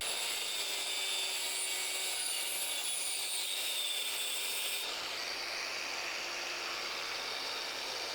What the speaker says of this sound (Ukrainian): Оскільки ми маємо справу з цим монокільцем, мені доведеться його просто зараз обрізати.